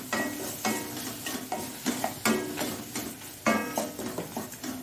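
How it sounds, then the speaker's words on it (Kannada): Garlic and salt fry in masala with a steady sizzle, while a utensil strikes and scrapes the pan in an irregular series of sharp knocks, close and fairly loud, with no speech. "ಈ ಬೆಳ್ಳುಳ್ಳಿಯನ್ನು ಸಹ ಇದರಲ್ಲಿ ಹಾಕಿ ಒಳ್ಳೆ ಫ್ರೈ ಮಾಡಿಕೊಳ್ಳೋಣ"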